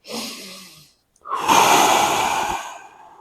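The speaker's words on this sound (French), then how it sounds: "j'inspire par le nez, j'expire par la bouche" A person breathes during a shoulder internal-rotation stretch, a nasal inhale followed after a short pause by a longer, louder exhale through the mouth, close and alone.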